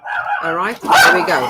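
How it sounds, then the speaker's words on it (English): Dogs bark in the background, loud and excited, overlapping a voice speaking nearby for most of the short stretch. "Sorry for my dogs in the background, because I know you guys can hear them."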